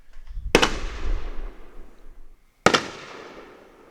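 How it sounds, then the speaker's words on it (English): Fireworks going off outdoors: two sharp, loud blasts about two seconds apart, each followed by a crackling, rumbling decay fading into the distance, with no talking. "Fireworks going off naturally."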